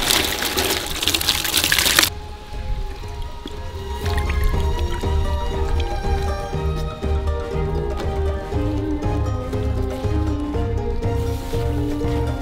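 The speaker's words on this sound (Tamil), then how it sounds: "கேரட் வெங்காய இலை ரெண்டையும் சுத்தமாக கழுவி எடுத்துக்கலாம்." Carrots and onion leaves are washed by hand in water. Close, wet squishing and sloshing continue throughout, with a louder rush of running water at the start and irregular dripping and splashing after it.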